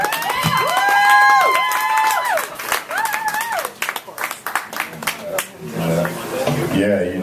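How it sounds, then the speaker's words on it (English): An audience applauds and cheers for Erik at an SJSU MFA mixer during a LitQuake literary event, with rising whoops over the early clapping before it thins into scattered claps and voices. "A round of applause for Erik."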